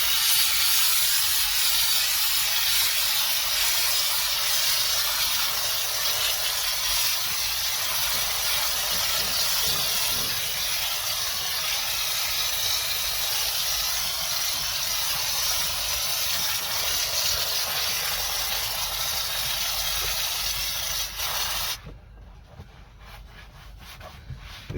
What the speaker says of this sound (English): I'm now going to rinse this down using the steam